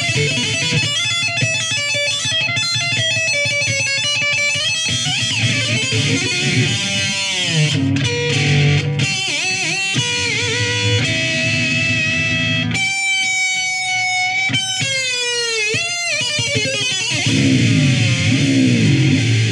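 A $400 Flying V electric guitar played through heavy distortion, a dense, continuous stream of overdriven riffs and bending lead notes with brief gaps, loud and close with no voices.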